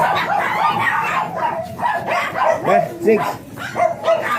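A blue miniature pinscher barks and yips in quick bursts close by at a kennel, with a person speaking over and between the barks.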